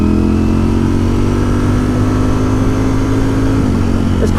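A 2020 Ducati Streetfighter V4 S engine pulls hard on the road, with a loud, steady drone that climbs in pitch. A gear change near the end causes a short dip and then a renewed rise under rushing wind, with no speech.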